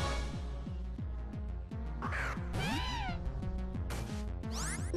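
Cat-like Pokémon cry from the video game Pokémon Black 2, a series of shrill synthesized swooping calls over steady, rhythmic battle music, fairly loud and continuous with no talking.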